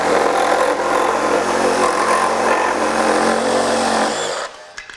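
Craftsman V20 brushless reciprocating saw fitted with a Diablo bimetal blade cutting through nails, a loud, steady buzzing rasp up close that stops abruptly near the end.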